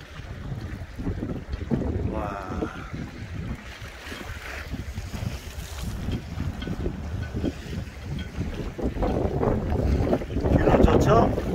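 Sea waves and wind at the Mokpo seaside near a beach hotel, with Mokpo Bridge in view. Gusty wind buffets the microphone over sloshing, rolling surf, and both grow louder and rougher toward the end.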